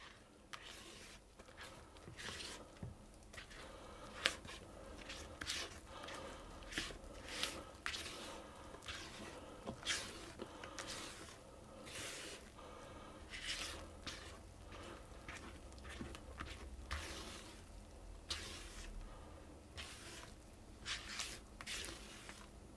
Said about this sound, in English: I'm going to continue to fold that until it's all combined.